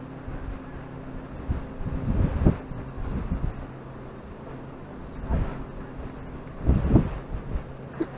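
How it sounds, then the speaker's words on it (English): Late-fall wind blows across open water while yellow perch fishing in Connecticut, a low steady rumble of microphone buffeting with a few stronger gusts swelling and fading, fairly faint and without talk. "That wind's blowing."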